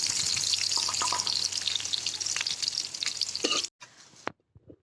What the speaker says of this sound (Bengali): এখন আমি পেঁয়াজটা দিয়ে দিব। পেঁয়াজটা ভাজা করে লাল করে নেব